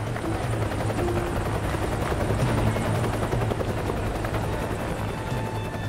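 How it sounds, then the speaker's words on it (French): A rescue helicopter's rotors thrum steadily and loudly throughout at the Air Florida Flight 90 crash site, a continuous close chopping drone with no voices. "Un sauveteur est sorti de l'hélicoptère pour attraper Nikki Phelps."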